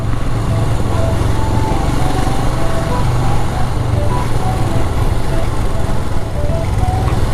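Vehicle engines idle and rev in a dense traffic jam on the hill road from Siliguri to Gangtok in Sikkim, a steady, loud mechanical drone close by that runs through the whole stretch without a break.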